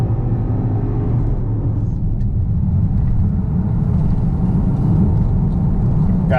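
A Porsche Cayenne Turbo SUV's engine pulling under acceleration, a loud, steady low rumble heard from inside the cabin with no talk.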